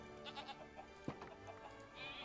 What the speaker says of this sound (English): Huh, goats. Goats and chickens.